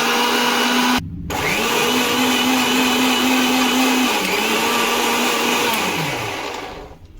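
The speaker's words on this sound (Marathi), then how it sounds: "तर आता मिक्सरला लावून घेऊया आपण हे" A kitchen mixer grinder whirs as it blends garlic and ginger into a paste. The loud, steady motor drone dips briefly near the start, then runs on evenly and winds down at the end.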